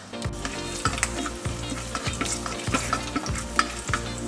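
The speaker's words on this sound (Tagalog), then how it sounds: "Lalagyan na natin or igigisa na natin itong luya." Ginger sautéing in hot oil, a steady bright sizzle punctuated by regular scraping stir strokes of a utensil across the pan, close and fairly loud, no voices.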